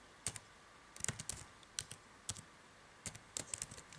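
Fingers tap on a computer keyboard while entering code in Matlab, producing quick, light clicks in short uneven bursts, close and clear against a faint steady hiss.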